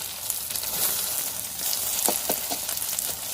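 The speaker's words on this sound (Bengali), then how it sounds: "এই যে দেখো এক পিঠটা আমার ভাজা হয়ে গেছে" Eggs fry in oil in a pan, a steady bright sizzle with crackling pops, close and loud with no talking.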